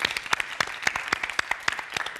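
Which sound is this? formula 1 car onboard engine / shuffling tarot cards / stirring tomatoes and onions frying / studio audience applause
studio audience applause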